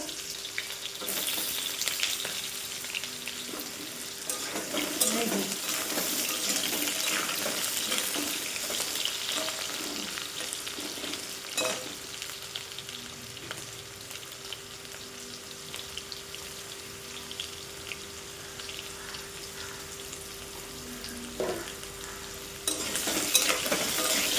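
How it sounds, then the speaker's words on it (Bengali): Potatoes fry in a small amount of oil, a steady close sizzle with intermittent stirring scrapes and clatter from a spatula, continuous throughout, no talking. "আগে আলুগুলো ভেজে নেবো, তারপরে পটলগুলো ভাজবো"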